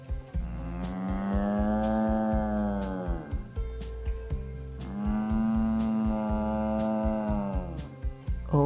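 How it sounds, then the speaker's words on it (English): A cow moos twice, each a long, full, drawn-out low bellow of about three seconds, separated by a brief pause and heard close and clear with no talking. "Oh, that's very familiar voice. Yes, it's cow."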